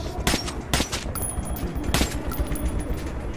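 Gunfire in the Metro 2033 Redux video game cracks out in sharp bursts, several loud shots in quick succession over a dense rumbling background, with no talk.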